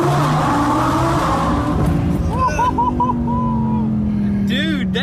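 A 1200-horsepower twin-turbo Audi R8 accelerates hard, a loud raw engine roar rising in pitch through the gears, with excited voices talking over it.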